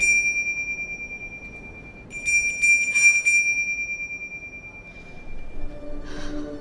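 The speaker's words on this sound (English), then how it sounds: "hears the bell from the reindeer ring" A reindeer sleigh bell from the film The Polar Express chimes in a quiet scene: a sustained clear ring, then a brief cluster of bright jingling strikes, with soft swelling music beneath.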